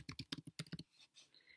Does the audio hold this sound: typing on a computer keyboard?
yes